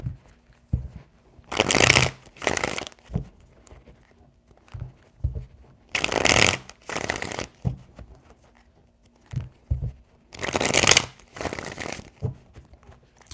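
Tarot cards are shuffled for a reading in three separate bursts of riffling and crinkling, each a couple of seconds long, with quiet pauses between them and no talking.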